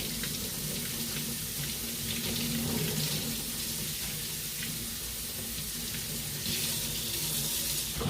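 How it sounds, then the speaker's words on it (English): Kitchen faucet running water into a sink, a steady close hiss and splash that continues unbroken with slight shifts in the stream, no talking over it. "Now I'm just going to get some water going."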